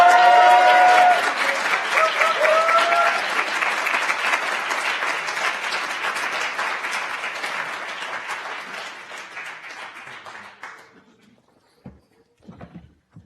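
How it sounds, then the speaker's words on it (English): Audience clapping at an Executive MBA graduation ceremony, a dense sustained round of applause with a voice briefly audible at the start, gradually thinning and fading out to a few scattered last claps. "Now that you got the clapping out of your system."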